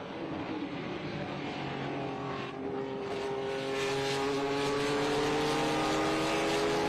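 Race cars in an air-cooled Porsche enduro race roar past with steady, loud engine noise, the pitch climbing and sweeping as the leader goes by at close range with no talk.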